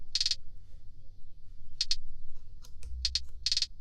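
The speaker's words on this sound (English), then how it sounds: "I added like a hi-hat, like a very low one down here." A low-pitched hi-hat soloed from a trap beat ticks in short bright bursts, some rapid doubles and rolls, quiet and crisp against near silence.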